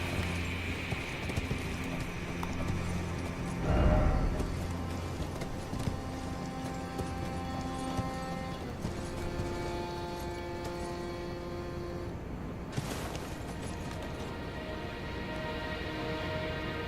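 Hooves clip-clop in a steady galloping rhythm as a horse runs in Elden Ring at the Ancient Ruins of Rauh, mid-distance and continuous, with a brief heavier thump partway through.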